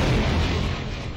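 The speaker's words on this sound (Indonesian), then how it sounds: "Semuanya meledak ya." A heavy, booming explosion in the video game Short Life, loud and broadband, with a rumbling decay through the brief stretch and no talk.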